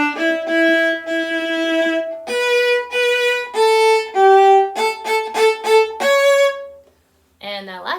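Viola playing a melodic passage alone, with sustained bowed notes and then a run of shorter repeated notes, close and clear, ending in a brief pause and a final few notes.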